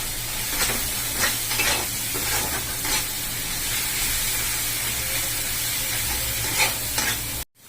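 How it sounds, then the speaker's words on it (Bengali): Spice masala with turmeric fries in oil in a pan while being stirred, a close, constant sizzle with repeated scraping strokes of the spoon throughout, cutting off abruptly at the end. "মশলাটাকে খুব ভালো করে কষিয়ে নিচ্ছে।"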